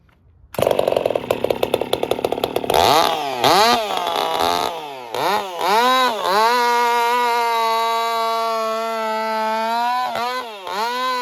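A Husky 55 race chainsaw, throttle worked by an on-off switch and revving to about 16,000 RPM, starts with a sputtering pull and then screams loud and close, surging up and down before holding a sustained high-pitched whine.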